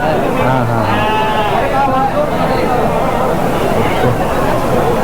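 Fighter ram lamb at the Mudhol sheep market bleating loudly close by, with several more bleats amid a crowded hubbub of people talking throughout.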